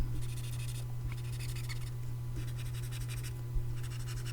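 The chisel edge of a marker colors in highlights on a drawing of Donatello, making soft, close scratchy strokes in bursts with short pauses over a steady low hum.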